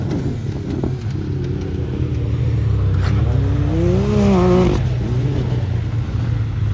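Hanson Turbo Pro R and Mav R RC cars racing close together, with high, whining nitro engines rising and falling in pitch as they accelerate and pass nearby.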